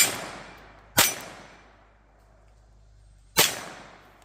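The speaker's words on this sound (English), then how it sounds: "We'll grab that 9mm Ruger and just hit that little gong a couple times with it." Two sharp shots from a 9mm Ruger PC9 carbine ring off a small steel gong, spaced a couple of seconds apart, each a loud crack with a brief fading tail and quiet between.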